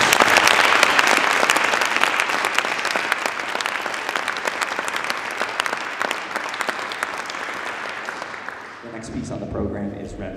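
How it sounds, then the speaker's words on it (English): Audience at a university percussion concert applauding young student percussionists: loud, sustained dense clapping that gradually thins, then fades out near the end as a brief instrumental sound enters. "So give them a big round of applause for that."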